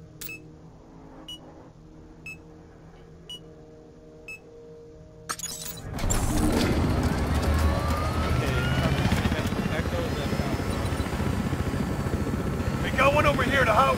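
A helicopter's rotor and engine roar in loud and steady after a quiet opening in Battlefield Hardline, with game sounds and chatter mixed in over the noise.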